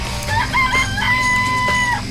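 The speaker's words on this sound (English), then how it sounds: "I remember there were some chickens in the chicken coop." Chickens in a coop in the video game Danganronpa cluck and squawk in short, bright bursts, close and fairly loud, over a low steady background hum.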